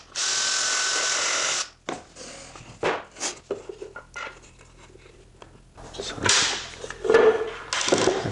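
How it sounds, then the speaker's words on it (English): A drill with a 7/16 bit deepens a counterbore hole in a live edge log box, a loud steady whir for about two seconds, then quieter scraping and handling noises and a later short burst of drilling, close up. "So I'll make that counterbore hole just a little deeper."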